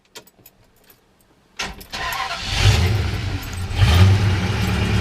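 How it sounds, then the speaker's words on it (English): A few small clicks, then a 1956 Chrysler 300B hardtop engine cranks and catches, settling into a loud, rumbling idle through dual exhaust that swells and revs up once or twice. "we'll go ahead and fire this one up for you"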